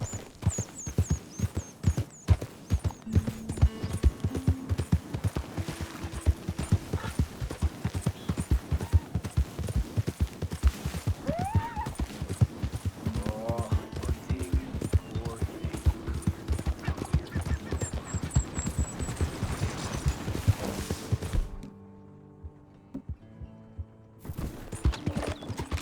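A horse gallops in Red Dead Redemption 2, with rapid rhythmic hoofbeats running steadily and close over game music, then briefly dropping away before resuming.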